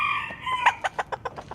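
A rooster crows close by at a livestock sale, a drawn-out call followed by a quick run of short, clipped clucks.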